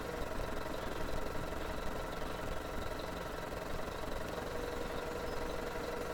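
A Manitou telehandler engine idles on a farm, a steady, continuous mid-pitched rumble with a fine knocking texture, close and even throughout with no voices.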